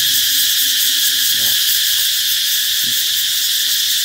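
A dense, steady high-pitched buzzing drone of cicadas singing in a longan tree fills the scene, loud and unbroken, with a few faint low knocks and rustles underneath.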